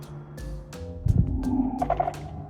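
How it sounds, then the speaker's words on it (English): Minecraft 1.19 "Warden draws close" warning sound: an ominous low rumble with a swelling, warbling mid-range tone and occasional sharp clicks, growing slightly louder toward the end. "And if you see Warden draws close or hear this noise,"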